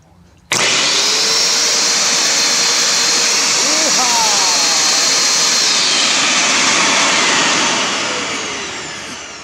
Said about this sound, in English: So now we'll turn it on and see if the pump works.